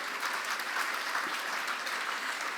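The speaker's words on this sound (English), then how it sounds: "Big round of applause for El Segundo." Steady applause from an audience at a city's State of the City 2023 address, honoring El Segundo: dense, even clapping that fills the room at a moderate level from start to end, with no voices above it.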